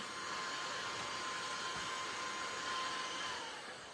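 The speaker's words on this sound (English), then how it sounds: "I'm going to take my little desktop cleaner here and just suck up some of that dirt" A small desktop vacuum cleaner whirs steadily as it sucks up dirt on a crafting desk, a close, continuous airy hum that holds level for the whole stretch with no talk.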